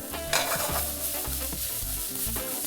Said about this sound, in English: that fire sounds just a little warm, so we'll give that a toss